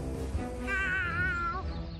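A cat meows once in the video game South Park: The Fractured But Whole, a single drawn-out, wavering cry of over a second, clear and fairly close over a quiet game ambience.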